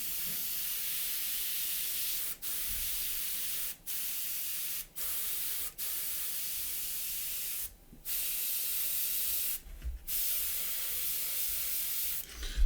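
An airbrush sprays paint in post shading, a close, continuous airy hiss broken by several abrupt brief stops as the trigger is released, then resuming.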